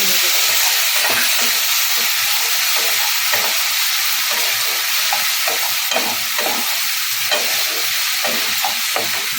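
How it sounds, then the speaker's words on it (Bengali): Onions and ground spice paste frying in a pan for spinach pulao, a steady broad sizzle with repeated scrapes of stirring throughout, close and loud. "ভালো করে ভেজে নেব"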